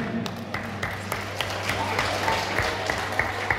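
Applause for a live Turkish band at a wedding celebration in Germany, moderate clapping over a low, steady hum of amplified sound, with a few louder claps punctuating it for several seconds.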